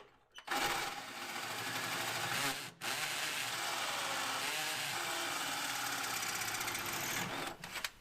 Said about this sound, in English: So I got my hole drilled.